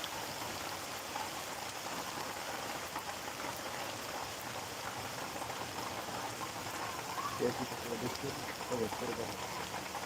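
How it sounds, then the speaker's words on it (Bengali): Rain falling in Gazipur makes a soft, even patter that stays fairly faint, growing slightly busier toward the end, with voices underneath. "গরমের মধ্যে বৃষ্টিতে ভিজতে অনেক ভালো লাগে"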